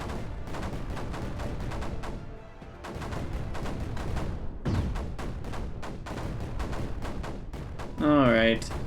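Repeated mortar fire in the strategy game Creeper World 4, a rapid stream of sharp thumping shots that continues steadily with brief pauses, with a short electronic warble near the end.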